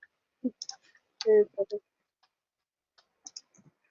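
Computer mouse clicks during an online 3D modeling class, a handful of short, sharp clicks scattered across a few seconds, close and fairly quiet, with people talking in between.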